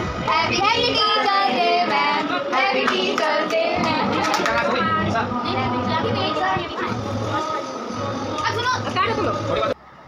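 A group of people clapping hands during a Teacher's Day outing, bursts of claps mixed with lively chatter and children's voices, loud and close throughout.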